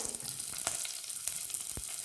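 Chopped chilli and shallots frying in hot coconut oil for a Kerala-style fish curry, a steady close hiss and crackle with a few sharper pops, no voices.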